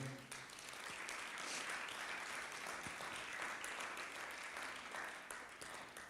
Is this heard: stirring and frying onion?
no